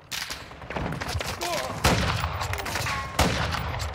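Gunfire in Call of Duty Modern Warfare 2 multiplayer: a steady burst of shots with two louder blasts, under game effects and faint voices.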